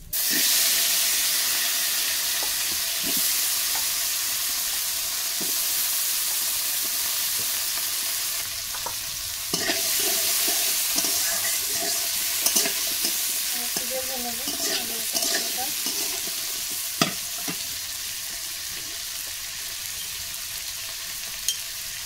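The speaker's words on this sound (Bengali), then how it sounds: "তো এই তেলের ভিতরে এখন আমি যে আলু আর কাঁকরোলটা কুটে রেখেছিলাম সেই আলু আর কাঁকরোল দিয়ে দেবো।" Chopped potatoes and spiny gourd hit hot oil and sizzle loudly in a pan, a steady bright hiss with occasional scrapes and taps of stirring, close and unbroken throughout.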